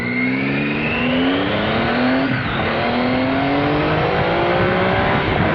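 A Triumph Tiger motorcycle accelerates hard out of a U-turn, its engine note climbing steadily through the gears, loud and close, over constant wind noise.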